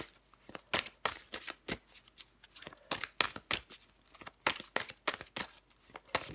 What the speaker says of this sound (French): je prends encore une carte pour vous les béliers